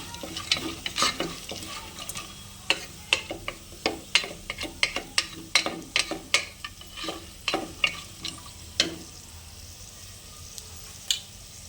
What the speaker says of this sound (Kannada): ಈಗ ಒಂದು ಬಾಣಲಿಗೆ 4 ಸ್ಪೂನ್ ಆಯಿಲು, ಕಡಲೆ ಬೀಜ, ಕಡಲೆ ಹಾಕಿ ಫ್ರೈ ಮಾಡ್ಕೊಳ್ಳಿ.